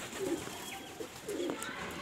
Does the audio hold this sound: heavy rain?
no